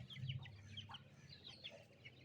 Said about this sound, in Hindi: एक मुर्गा, 4 मुर्गियाँ।